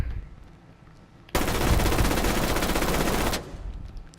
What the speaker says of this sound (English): So we're gonna load an entire clip on the Montang shield.